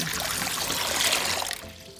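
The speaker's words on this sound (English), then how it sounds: "so let's pour in the water" Water pours into a gallon-sized plastic ziplock bag, a close, continuous splashing trickle that runs for about a second and a half before tapering off.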